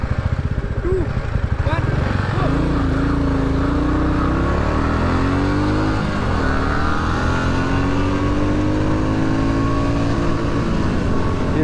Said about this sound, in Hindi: ये चंदू भाई की R15 और ये अपनी मिट्योर